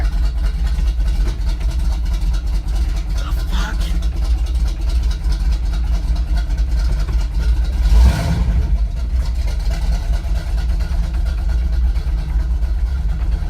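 A 1985 Chevrolet C10 truck engine drones while driving, heard from inside the cab. The low rumble is loud and continuous, with a brief swell around the middle.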